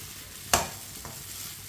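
Suji halwa with egg is stirred in a hot pan, giving a sharp scrape of the spoon against the pan over a steady low sizzle, close up with no talk.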